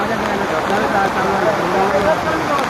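Dense, continuous rain roars evenly across the whole stretch at Raigad Fort, a thick wash of noise with no breaks.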